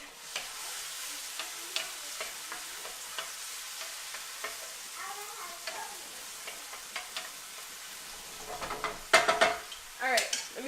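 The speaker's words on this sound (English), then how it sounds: "Just those little peppers in there, sauteing away." Small peppers sautéing in a pan for a coconut curry shrimp dish give a low, steady sizzle, with scattered stirring clicks throughout and a burst of louder utensil clatter near the end.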